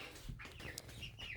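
Twenty-two four-week-old meat bird chickens packed into a small box give off faint, steady peeping and soft clucking in a continuous low murmur.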